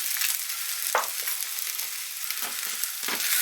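English chipolata sausages fry steadily in a pan with a constant sizzle, broken by several scraping stirs as they are moved about so they do not catch.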